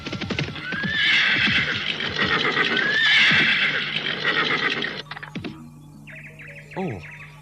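A horse neighs loudly and repeatedly as a rider approaches, with clip-clop hoofbeats running underneath and a few faint bird chirps in the background; no one speaks.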